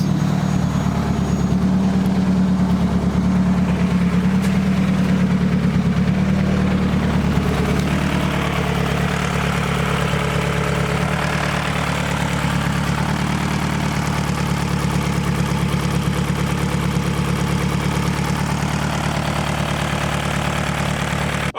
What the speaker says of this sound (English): Fuel pump's actually not too loud now that the car's running.